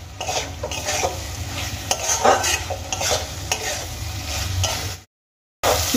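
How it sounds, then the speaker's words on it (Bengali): Fried potatoes being stirred into a spice masala in a pan for an egg curry, with steady scraping and stirring strokes over continuous sizzling, close and fairly loud, broken by a brief silence near the end. "এবার আমি মশলার সঙ্গে খুব ভালো করে আলুগুলোকে মিশিয়ে নেব।"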